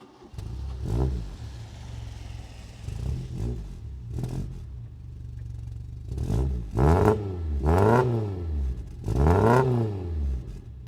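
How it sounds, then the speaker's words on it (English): A barn-find Vauxhall Nova that has sat unused starts and runs, the engine blipped through a series of loud revs that rise and fall, several in quick succession after a rough idle, close and alone. "And just to show you that the car runs well, I'm going to give it a start up."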